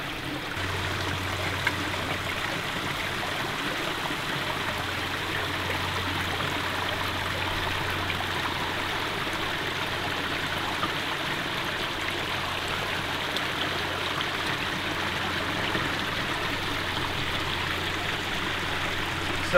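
Natural spring water trickles out of the ground in a steady, close, continuous wash of flowing water, with no pauses or voices over nearly twenty seconds.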